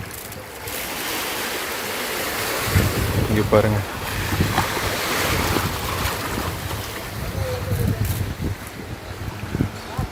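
Sea waves washing up on Colachel beach near the fishing harbour in Kanyakumari, a steady broad surf wash with wind buffeting the microphone and surges of water, while someone speaks briefly over it.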